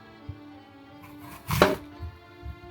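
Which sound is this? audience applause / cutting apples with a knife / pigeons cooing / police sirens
cutting apples with a knife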